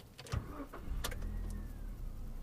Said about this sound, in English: starts right up like any other car